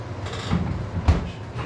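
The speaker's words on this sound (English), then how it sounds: "Putting them in the vacuum packer." A vacuum packer seals cubed deer backstrap portions at a professional meat processor. It gives a steady, fairly close mechanical hum with a soft thump near the end, and no voices.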